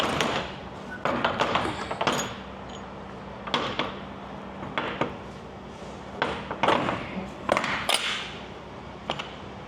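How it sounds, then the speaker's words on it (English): Metal truck trailer doors are swung shut and latched, giving a series of sharp clanks, bangs and rattles spaced irregularly, fairly close, with quieter handling noise between hits. "Shut these doors and lock it up."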